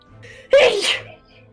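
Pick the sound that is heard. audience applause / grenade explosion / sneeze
sneeze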